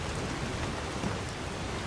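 Steady, dense rain falls in the Skyrim video game, a continuous hiss with no talk over it.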